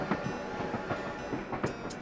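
A train rolls along rails in Animal Crossing, giving a rhythmic clickety-clack of wheel beats at a steady pace over a constant rumble, with no talking.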